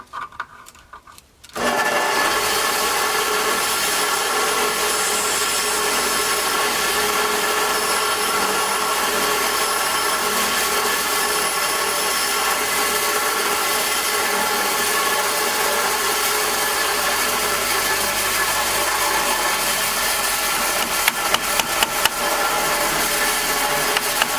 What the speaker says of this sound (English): I have to run the grinder on this a little bit.